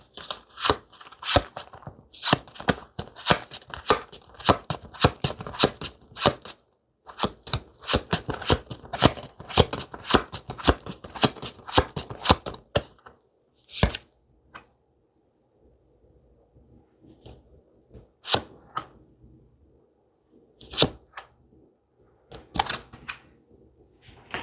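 Tarot cards shuffled by hand in rapid bursts of riffling and snapping, then a quieter stretch with a few isolated card slaps as cards are drawn, close and without speech.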